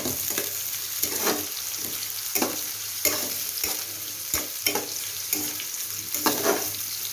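Chopped garlic and onion sizzle in a pan with shrimp and kanchail vegetable, a steady frying hiss broken by repeated stirring scrapes roughly every second, close and alone with no talk.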